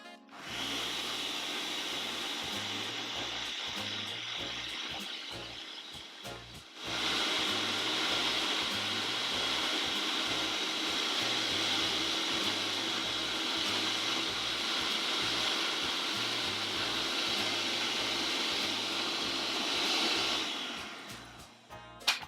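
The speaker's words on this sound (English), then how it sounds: "Now let's mix this together until it's pretty well mixed." Electric mixer or blender whirring steadily through no-bake keto brownie batter with vanilla, running close and loud for about twenty seconds with a brief pause near the start.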